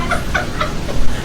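A pink pig order-ready noisemaker at a diner in East Texas gives a few quick, squeaky clucking honks in a row over steady room noise.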